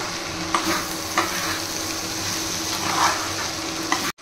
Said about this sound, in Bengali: এমনি 5 মিনিট ফ্রাই করতে হবে